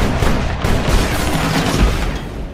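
Dense, continuous volleys of gunfire from an action shootout in Bad Boys: Ride or Die, loud and close, with overlapping shots and booming impacts filling the whole stretch and no speech.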